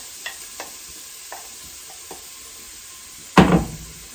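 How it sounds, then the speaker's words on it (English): Carrots hit hot oil in a soup pot and are stirred with a wooden spoon, giving faint scattered taps and scrapes over a low hiss, then a loud sudden sizzling burst near the end, all without talk. "You can kind of hear it sizzling there."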